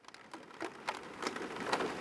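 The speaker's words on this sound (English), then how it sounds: "It's really raining now." Heavy rain patters close by in irregular splashes and drips, fairly faint but growing slightly denser over a couple of seconds.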